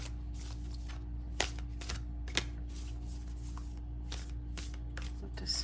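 Oracle cards being shuffled by hand, a soft steady riffling with a couple of sharper snaps, close and alone over a low background hum.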